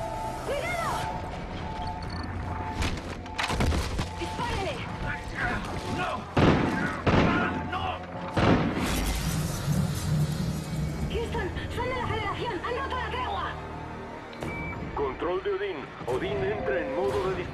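Gunfire and explosions in the video game Call of Duty: Ghosts, with heavy booms, crashes and rapid bursts of shots, while voices shout over the combat throughout.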